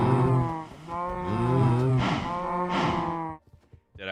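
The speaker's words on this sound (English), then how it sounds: "That's a really loud cow." A loud, drawn-out cow moo in Minecraft Java 1.21.4 survival, deep and harmonic, swelling over about three seconds before cutting off into near silence.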